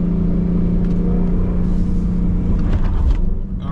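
A car pushed into a corner while learning to drift with a drift brake, its engine a loud, continuous rumbling drone that swells slightly near the end, with no talk over it.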